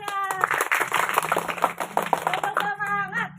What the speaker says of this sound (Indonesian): Ya, tepuk tangannya.